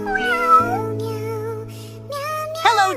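A cat meows several times in close, drawn-out cries with rising and falling pitch over a steady low hum, the last call sharper and louder.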